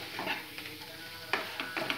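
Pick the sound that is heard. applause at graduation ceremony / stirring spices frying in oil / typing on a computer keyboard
stirring spices frying in oil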